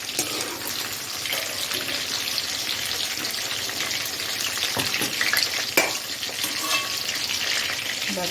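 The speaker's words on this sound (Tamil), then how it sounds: "இதே மாதிரியே நான் எல்லா கத்திரிக்காயும் எண்ணெயில் பொரிச்சிட்டு உங்கள்கிட்ட காமிக்கிறேன்." Eggplant pieces fry in hot oil, giving a continuous close sizzle and crackle with a few sharper pops near the end and no speech.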